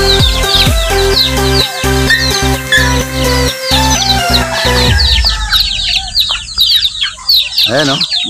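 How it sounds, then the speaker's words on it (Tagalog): Backyard chickens cluck and squawk close by with a rooster crowing, loud and busy, then quieter scattered clucking and peeping continues from newly hatched chicks in the yard. "may bagong pisa nga palang mga manok"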